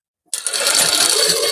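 A sewing machine starts abruptly after a brief silence and runs in a fast, even mechanical rattle while stitching fabric along a marked line.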